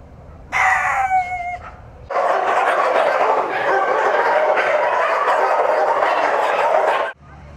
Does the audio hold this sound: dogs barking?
yes